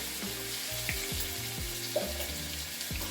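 A tablespoon of garlic paste sizzling and frying in hot oil, a steady crackling hiss punctuated by regular scraping stirs against the pan, close and continuous with no voices.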